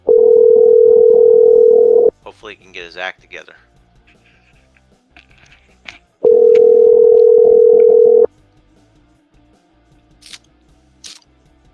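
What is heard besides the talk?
telephone dial tone and dialing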